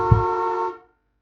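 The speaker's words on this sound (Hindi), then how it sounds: "और फिर उनके सामने एक बाइक ने हॉर्न बजाया।" A single steady motorbike horn honk, bright and buzzy, held for well under a second after a brief low thump, then cutting off into silence; loud and close with no voices.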